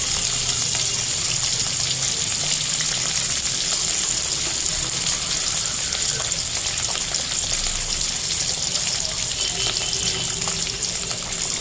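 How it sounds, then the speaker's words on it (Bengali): Fish fried one piece at a time in oil with a little extra oil added, giving a steady, loud hiss and sizzle throughout, with no talking. "নিয়ে মাছগুলোকে ভেজে নেবো একটা একটা করে"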